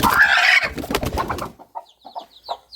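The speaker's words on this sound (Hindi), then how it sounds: "अब एक मुर्गी को हम नीचे करते हैं" Chickens in a coop where a Kadaknath hen is kept with chicks: a burst of loud, close clucking and squawking fades into softer, scattered clucks and bird sounds.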